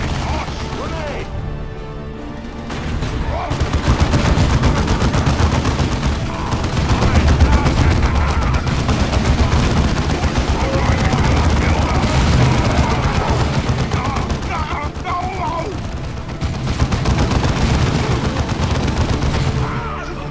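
Gunfire and a grenade blast in the Warhammer 40k strategy game Dawn of War 2, set in Sub-sector Aurelia. Rapid automatic shooting, booms and crashing battle noise run loud and dense for about twenty seconds.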